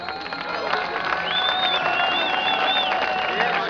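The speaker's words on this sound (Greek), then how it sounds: "Χειροκροτήστε τους." A crowd at a 2012 Ilia regional cup final award ceremony applauds and cheers the cup winners, a steady, dense roar of clapping and voices with whistles rising over it.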